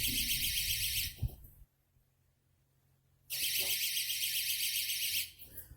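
Cooltto electronic fishing rod bite alarm gives two loud, shrill continuous buzzing tones separated by a short silence, close up with a faint click between.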